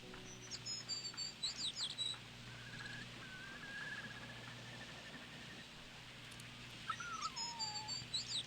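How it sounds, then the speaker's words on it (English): A dog in the horror video game Rule of Rose whimpers and whines in thin, wavering cries, faint beneath high chirping tones that open and close the stretch. "I get that the dog is crying"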